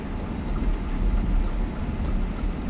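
Steady rain falls in Train Simulator 2018 on a Havant to Portsmouth shuttle service, a dense low rumbling wash of drops on the train with no talk, even and continuous throughout.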